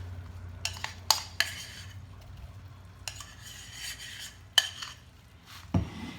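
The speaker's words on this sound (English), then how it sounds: "I got a lot more to mash up" Black beans being mashed for a pizza topping, a few sharp utensil clinks and scrapes against a bowl, spaced irregularly over a quiet background with no talk.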